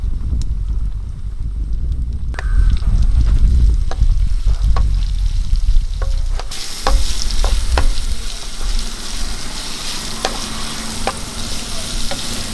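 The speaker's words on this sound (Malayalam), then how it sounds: "ഇതിലേക്ക് നമുക്ക് ഒരു സവോള അരിഞ്ഞത് ഇട്ട് കൊടുക്കാം" Chopped onion dropped into hot oil in a pan for an egg curry, the sizzle jumping louder partway through and then frying steadily with occasional clicks of a stirring spoon, close with no speech.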